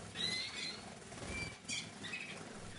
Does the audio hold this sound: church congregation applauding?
no